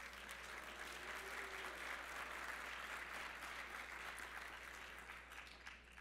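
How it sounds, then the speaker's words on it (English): Steady applause from a conference audience at a closing brunch, a dense even clatter of clapping hands that holds at a constant level throughout, heard from a distance in a large room. "Give them a big round of applause."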